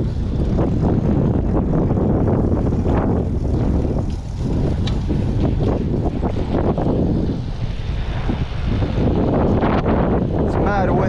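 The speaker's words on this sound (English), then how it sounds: "It's mad windy right now" Strong wind buffets the microphone in a constant loud roar, steady throughout with brief dips, heavy low rumble dominating.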